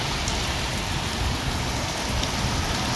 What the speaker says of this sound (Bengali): হায় রে বৃষ্টি, হায় রে বৃষ্টি রে।